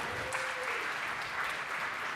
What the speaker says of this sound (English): can we give a round of applause for Pam?